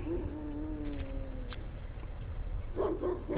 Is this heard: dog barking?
yes